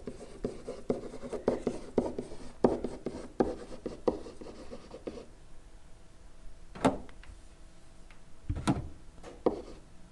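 Writing on a board during a mathematics lecture, with short scratchy strokes in quick bursts for the first half, then a pause and a few separate taps and strokes, close and fairly quiet with no talking.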